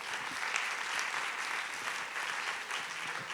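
Audience applause for photo award winners at a closing stage event, steady sustained clapping from a full crowd heard at moderate distance throughout.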